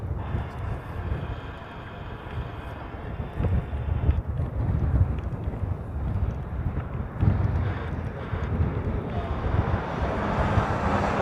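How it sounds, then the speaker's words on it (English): A Hawaiian Airlines jet departing Honolulu's reef runway, a broad distant engine roar rising and holding steady under gusty wind noise against the microphone. "Next departure on the reef runway will be Hawaiian 26 heading off to Portland."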